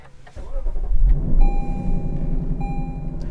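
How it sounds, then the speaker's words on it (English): A Lexus LC500 engine cranks and fires up after a brief starter whir from a push-button start, then settles into a steady idle with a faint electronic chime tone above it. "Push button engine start."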